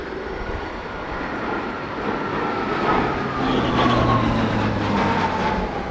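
Italian Air Force C-27J Spartan twin-turboprop cargo aircraft flying a low-ceiling display at RIAT 2017, a steady engine drone building slightly as it passes, heard from a distance with rising and falling tonal whine.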